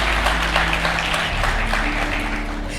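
A church congregation claps together in a loud, sustained burst of applause, with a low organ or keyboard tone sustained underneath.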